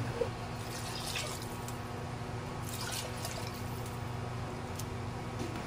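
Water is poured into a pot of sautéed kimchi jjigae ingredients, a steady liquid pouring and trickling wash with faint drips that lasts throughout, close and fairly loud, with no talking.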